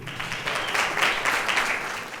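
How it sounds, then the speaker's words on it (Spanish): A church congregation claps, a dense, even burst of applause lasting a couple of seconds with no voices over it. "Dile un aplauso a mi amigo Mauri"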